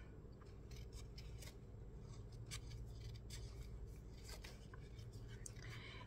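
Scissors snip paper while a printed image is cut out for a handmade easel card, giving quiet, irregular close-up snips over a low steady hum.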